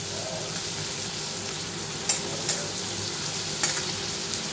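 Chicken and mushrooms fry in a pan with a steady, hissing sizzle that holds at a moderate level throughout, broken by a few faint utensil clicks near the end; no voices are heard.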